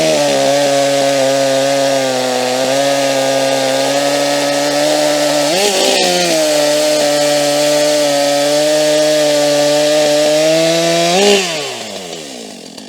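Battery-powered and STIHL chainsaws cut through a log, a loud, sustained high-revving whine with brief dips in pitch as the chain bites, running alone and easing off near the end.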